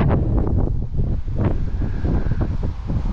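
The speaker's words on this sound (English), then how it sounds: "It's getting kind of windy here now too." Steady, loud wind buffeting the microphone, with a continuous low roar and gusty rumble throughout; no voices.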